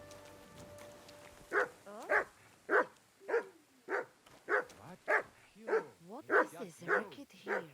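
A dog in the video game Kingdom Come: Deliverance 2 barks about a dozen times in a steady rhythm, each bark sharp and even, after a faint low hum.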